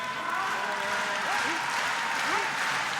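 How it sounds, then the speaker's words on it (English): An arena crowd at a curling match claps along together during a TV timeout, a dense, continuous wash of applause heard throughout while a commentator talks over it. "the goal for these young kids was to get everyone in the crowd to clap at the same time"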